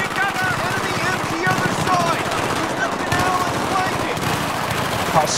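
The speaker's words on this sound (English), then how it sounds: "I got the MG here, look at that. I'm shooting" Rapid machine gun bursts in Battlefield 3 campaign gameplay, dense repeated rattling shots in quick succession throughout, loud and close, with someone talking and a game voice over the firing.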